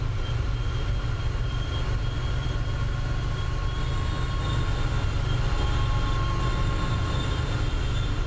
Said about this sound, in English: Listen to it squealing away with the brakes still applied.